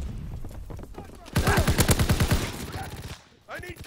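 Rapid automatic gunfire from a World War II era gun in Call of Duty WW2 multiplayer, a loud burst of evenly spaced shots lasting about a second, with game ambience before and after and a voice briefly speaking at the end.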